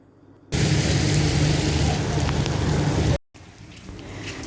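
Steady heavy rain pours down loudly and evenly for a few seconds, then cuts off abruptly and returns softer and more distant, with no voices over it.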